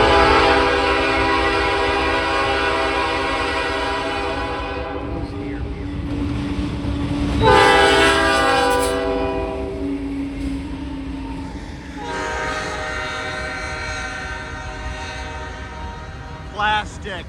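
A Pan Am freight train rolls through Royalston in a cold, heavy rainstorm, sounding its multi-tone horn in long blasts over the rumble of passing cars and steady rain noise.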